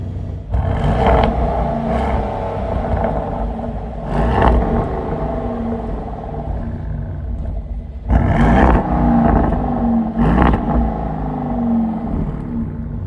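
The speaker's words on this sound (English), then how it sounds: "I will just start the engine." An Audi SQ9 SUV's 591-horsepower V8 idles with a deep, steady rumble, punctuated by several short revs that swell and fall back.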